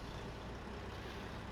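A truck in Farming Simulator 22 drives along with a continuous broadband engine and road roar, steady and even in level, with no voices.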